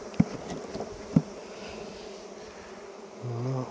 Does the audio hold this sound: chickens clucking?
no